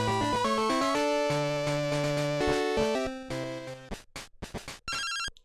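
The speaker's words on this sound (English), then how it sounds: "Phone call." An incoming phone call rings in the Game Boy game Pokemon Silver: bright chiptune music gives way to a few short, sharp electronic ring bursts that repeat in quick pulses.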